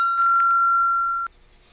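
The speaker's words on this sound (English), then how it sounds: "You can use the top piece as a bell." A single bright metallic ring from the cut-off top of an aluminum O2 cylinder struck like a bell in a shop, sustaining a clear steady tone for about a second before being damped abruptly.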